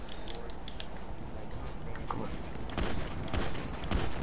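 Pistol gunfire in the video game GTA 5, a dense crackle of rapid shots under a steady game noise bed, with stronger bursts of shots near the end.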